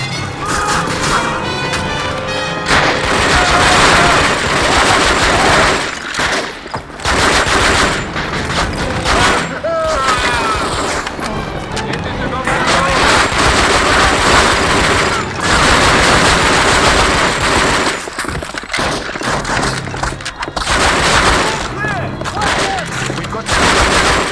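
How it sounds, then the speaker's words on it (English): Heavy machine gun fire and battle noise in Call of Duty: Finest Hour, a WWII shooter, with loud continuous bursts, crashes and impacts running almost without pause, broken by brief lulls, with voices shouting beneath. "Take that machine gun and throw some lead back at those Jerrys!"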